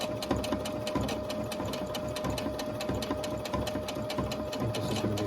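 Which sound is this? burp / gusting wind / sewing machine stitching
sewing machine stitching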